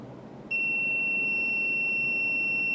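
A digital multimeter gives a continuity test beep while checking an electrical fuse. A sudden steady, piercing tone starts near the beginning and holds unbroken until the end, over faint background hiss.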